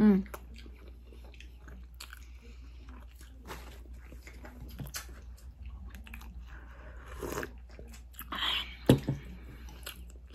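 Someone chews and bites into a bowl of Mexican menudo with a tortilla, soft close crunching and mastication sounds spread through a quiet room, with light vocal noises between bites.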